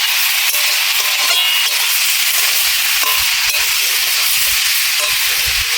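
Boiled mango pieces going into a hot pan for mango pickle, a loud, steady sizzling hiss close by, with small crackles and stirring scrapes scattered through and no talking.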